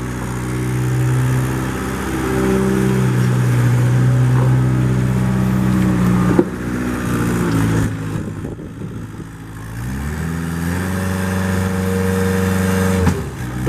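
The diesel engine of a 2021 Gehl RS4-14 telescopic handler forklift idles with a deep, steady drone, revs up and down several times with shifting tones, and settles back, loud and close.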